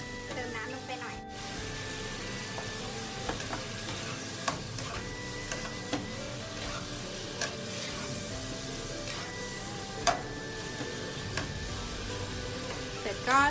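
Thai basil beef stir-fried in a pan with a splash of water added, giving a steady close sizzle with scattered scraping and clinking stirring strokes throughout.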